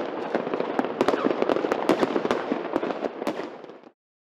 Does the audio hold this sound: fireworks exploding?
yes